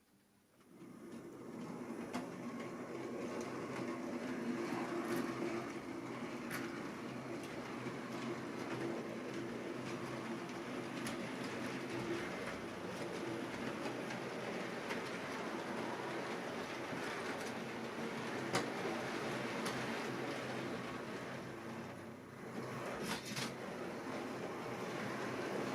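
Model train, a Rapido UK GNR 8-ton van in tow, rolling steadily through track points, a continuous soft rumble with faint clicks, close and fairly quiet throughout.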